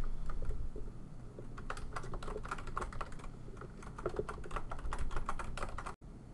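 Someone types a username and password on a computer keyboard in a quiet room, with bursts of rapid, close key clicks, brief pauses between runs, and a sharp final keystroke near the end.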